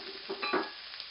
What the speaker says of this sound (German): in die Pfanne und rösten das Gemüse in dem Rouladenansatz an